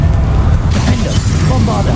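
A fiery spell blast in a wizarding video game, a deep booming burst with rumbling crackle, loud and close, lasting only a moment.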